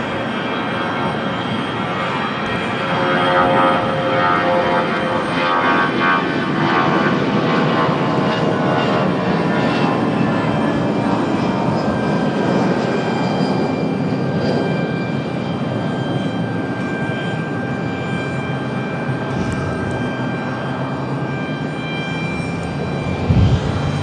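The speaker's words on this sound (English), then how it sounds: "First Southwest departure of the evening." A Southwest airliner departs from Raleigh Durham airport on a hot evening, its jet engines building to a loud, sustained roar that holds steady, then swells and fades slightly as it climbs away.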